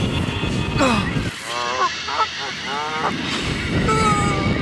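Geese honk repeatedly at close range, a run of nasal calls over a soft outdoor background, with a human voice briefly mixed in.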